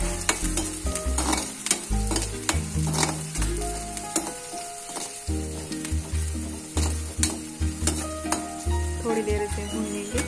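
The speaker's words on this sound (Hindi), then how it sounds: "थोड़ी देर से भूनेंगे।" Pakoda curry mixture stirred and fried in a pan, loud sizzling with frequent spoon scrapes and clanks against the pan in a busy, uneven rhythm, no voices.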